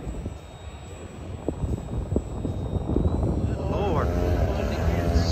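A propeller smoke plane drones overhead at a mountain bike event, its engine swelling louder as it passes, while people chat nearby.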